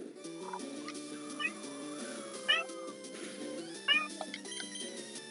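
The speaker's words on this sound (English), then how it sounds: "Nami, my little baby kitty Nami is talking" A pet cat meows in several short, rising calls amid busy video-game music, standing out at three moments against the steady backing tune.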